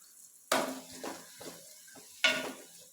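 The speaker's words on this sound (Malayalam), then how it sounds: "ഉള്ളിയും ഇതുപോലെ തന്നെ നല്ലപോലെ ഗോൾഡൻ കളറിൽ വറുത്തെടുക്കും" Onions frying golden in a pan with ginger, a faint sizzle broken by a few sharp spoon-against-pan stirring scrapes, with no talk.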